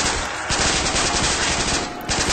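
P90 submachine gun fire in a Custom Zombies video game, a loud rapid continuous burst of automatic shots with a short pause near the end, no talking.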